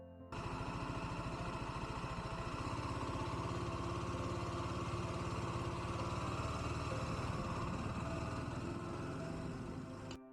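A small motorcycle engine runs steadily and close, a noisy buzzing, rattly drone with a constant low pulsing that holds unchanged for the whole stretch, without knocking.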